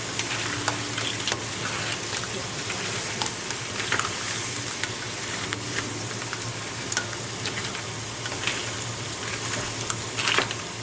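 Shrimp and other seafood frying in a pan for paella, a steady crackling sizzle with scattered sharper pops and occasional stirring clatter, continuous and close throughout.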